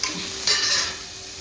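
Cooking oil sizzles in a clay or steel pot while khichdi is being made. A steady, close crackling hiss swells briefly about halfway through, with faint stirring and no talking.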